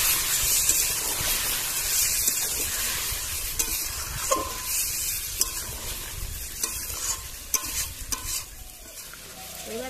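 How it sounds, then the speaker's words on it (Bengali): Chicken being stir-fried village-style in a pan, a continuous close sizzle and hiss with repeated scraping stirs of the spoon against the pan throughout. "আর একটু জল দিয়ে আমি মাংসটাকে আর একটু কষতে থাকবো।"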